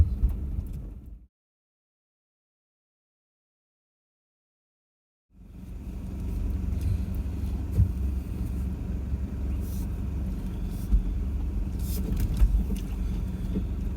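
An off-road vehicle climbs steep hills, lifting its wheels, with a loud, steady engine rumble and rough knocks. The sound cuts out completely for about four seconds, then resumes.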